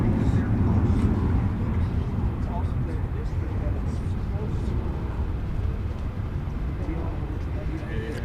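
Jet airliner, flight 1832 to Denver, rumbling at DFW Airport, a broad steady roar strongest at first and easing slightly, with a voice talking over it.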